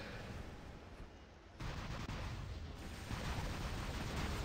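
An explosive shotgun-like weapon in War Robots fires round after round with dense, booming blasts and rumbling impacts that grow louder partway through, heard without talk.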